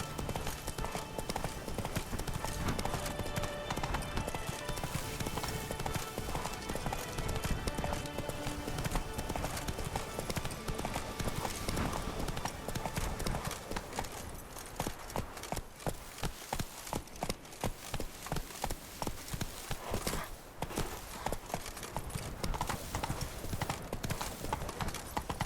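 Horse hooves clip-clop in a steady galloping rhythm throughout, loud and close, in the Witcher 3: Blood and Wine video game, layered over a continuous bed of music or ambience with occasional faint voice.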